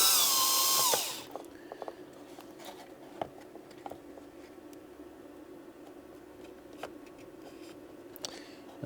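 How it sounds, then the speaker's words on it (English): A power drill bores holes while building a small hobby missile, a loud high whine for about a second that winds down, followed by quiet scattered taps and handling noises. "we've got to drill some holes, so get these in position."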